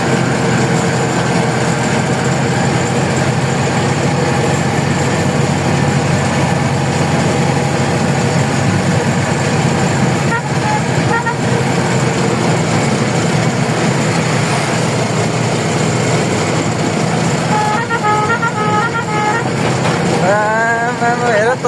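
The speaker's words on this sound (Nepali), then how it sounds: "ट्र्याक्टरमा यात्रा हुँदैछ काठमाडौँ" Tractor engine running steadily during a ride on a road near Kathmandu, a loud continuous mechanical drone that stays constant from start to finish, with faint voices in the background.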